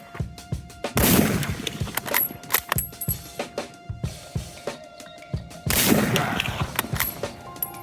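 Two sharp, loud 8mm Mauser rifle shots ring out close by, each with a long rolling echo, separated by a stretch of clicking and rattling from handling the rifle.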